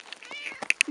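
A kitten, a male kitty cat, gives several short, high meows in quick succession, close to the microphone, with a person's voice murmuring in between.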